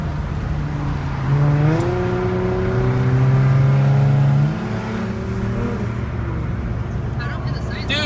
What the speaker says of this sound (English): So there is currently a car chase right now with the cops.